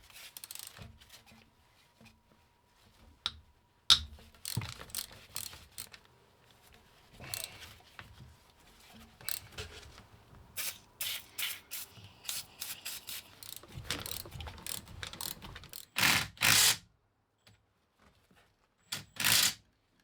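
Bolts come off the starter of a VW diesel engine inside a wooden boat, worked with a ratchet wrench: irregular close clicking, rubbing and scraping bursts, with longer loud rasping runs near the end.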